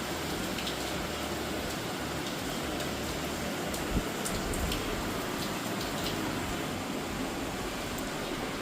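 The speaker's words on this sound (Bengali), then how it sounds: "কি বৃষ্টি সন্ধ্যাবেলায়।" Evening rain falling steadily outdoors, a dense even hiss with scattered drips and ticks, moderately quiet and unbroken, no voices.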